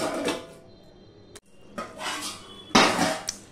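A metal lid set onto a cooking pot of drumsticks, giving bright clattering knocks and scrapes in separate bursts with a short silence between them, close and fairly loud, no voices.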